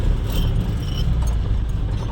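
A truck being parked at an office on the Jodhpur ring road, its engine giving a steady, loud, close rumble that holds evenly throughout with no voices.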